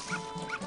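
Dog in the video game Majora's Mask giving two short yipping barks in quick succession over a steady game background hum.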